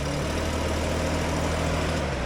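Off-road vehicle engine running steadily at light, even throttle while the driver steers, a continuous close low rumble with a droning mid hum and no voices.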